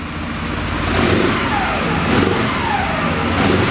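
A CFMOTO CForce 450L ATV engine revs close by, its loud, rough mid-pitched drone swelling in two or three throttle blips over a steady idle.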